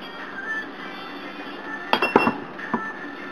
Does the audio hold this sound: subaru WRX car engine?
no